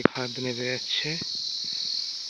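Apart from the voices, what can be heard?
hill crickets chirping in forest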